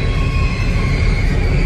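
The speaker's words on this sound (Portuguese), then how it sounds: "essa é a primeira vez que eu vejo o trem passar aqui, ó. Carregado de bobina ainda." Freight train loaded with steel coils passing close by, a loud, continuous rumbling roar with a steady high whine on top.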